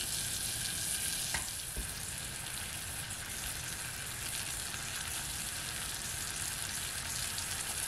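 Caramel cooking in a pan, bubbling with a dense, steady sizzling hiss that holds at an even level throughout, close and uninterrupted by talk.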